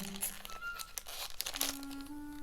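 Crinkling and tearing of a sealed Disney mystery pin bag being opened, a steady close run of plastic crackles and rips with brief louder crunches.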